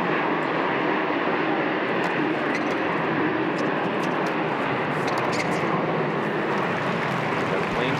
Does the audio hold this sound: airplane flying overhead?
yes